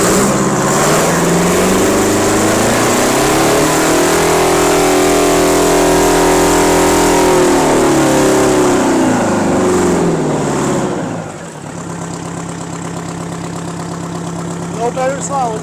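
A two-stroke tractor with a loud stock muffler revs up hard, its engine note rising and then falling back before dropping to a lower idle, loud and close, with speech nearby.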